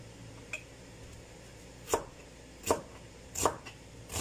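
A knife cuts through onions on a cutting board, landing in four or five distinct, separate chops spaced about a second apart, close and fairly loud against a quiet background with no one talking.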